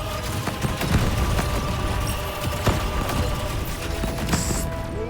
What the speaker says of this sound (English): Explosions and everything.